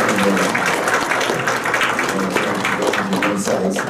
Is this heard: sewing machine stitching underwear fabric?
no